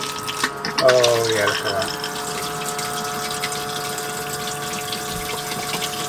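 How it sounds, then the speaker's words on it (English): A replacement flush pump on a Thetford C262 caravan toilet runs steadily, pumping water with a constant whirring drone and gushing flow, close by, while a person speaks briefly near the start. "put some water in the tank and make sure it flushes it through"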